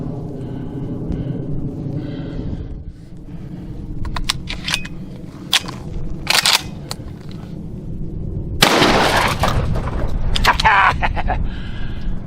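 A Citadel Boss Hog 12 gauge shotgun fires a few sharp, loud blasts at irregular intervals, with a heavy report near the end, among handling clatter and speech.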